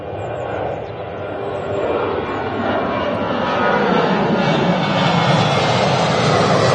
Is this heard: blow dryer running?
no